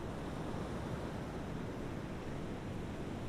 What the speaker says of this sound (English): You can hear the waves gently lapping against the shore.